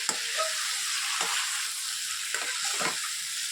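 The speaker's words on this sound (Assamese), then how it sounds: "ইয়াতে মই অকণমান নিমখ ছটিয়াই দিছোঁ ইয়াৰ ওপৰতে, আৰু এই মাংসখিনি আকৌ ভালদৰে মিক্স কৰি ল'ম।" Chicken meat and salt being stirred in a hot pan for a banana stem and chicken dish, a steady broadband sizzle with a few soft scraping stirs, close and continuous, with no voices.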